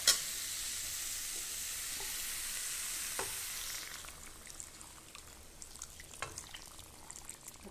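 Water poured into curry frying in a pan at home, with a steady loud sizzle for the first few seconds that drops and softens into quieter bubbling and occasional stirring clinks.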